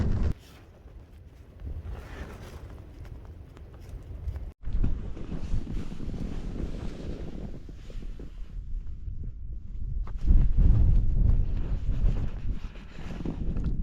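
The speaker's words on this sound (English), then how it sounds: "The wind's picking up a lot now." Strong wind roars and buffets the microphone outdoors at a cold, wet wild camp, a loud continuous rumble that surges in gusts, with no talking.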